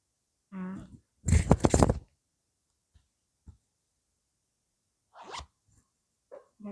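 A front zipper on 100% linen trousers is pulled in one quick, close zip, followed by a few faint fabric rustles and small clicks.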